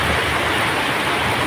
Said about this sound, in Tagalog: Bigla na namang umulan dito sa area ko kung saan ako nagtitinda.